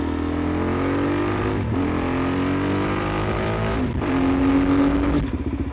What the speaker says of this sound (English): if I drop the clutch, it just purrs and the revs drop down really quick